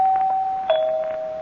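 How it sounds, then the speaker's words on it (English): A doorbell rings in an old radio drama, a steady two-tone electric chime that holds one pitch, then shifts to a slightly lower tone, loud and close with nothing else around it. "ring the doorbell again"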